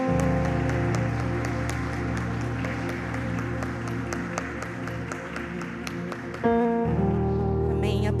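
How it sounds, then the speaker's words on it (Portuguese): A church congregation applauds the mothers on Mother's Day, with sustained crowd clapping over a held musical backdrop, then the clapping thins as the music shifts near the end. "eu queria te pedir para nós aplaudirmos cada mamãe"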